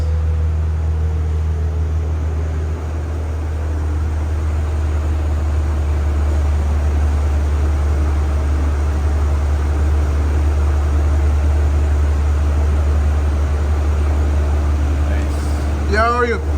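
A tuned BMW G82 M4 with xDrive, running an E50 tune at over 700 horsepower, drones steadily on a dyno, a loud constant low engine roar held throughout, with a faint rising whine near the end.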